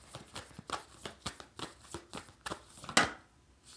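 Tarot cards being shuffled by hand, a quick series of soft papery riffles and taps in steady rhythm, close and fairly quiet, ending in a sharper louder flick.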